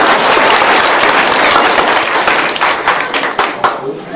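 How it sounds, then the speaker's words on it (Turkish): An audience applauds loudly at a village day ceremony in Sinanhoca village in 2004, a dense, sustained burst of many hands clapping that thins into scattered claps toward the end. "Tekrar alkışlayalım."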